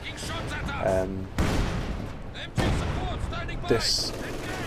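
Field gun fire in the World War II strategy game Company of Heroes 2, with two heavy booms about a second apart followed by ongoing battle noise and a voice talking over it.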